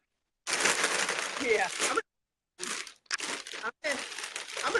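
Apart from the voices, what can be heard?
candy wrapper rustling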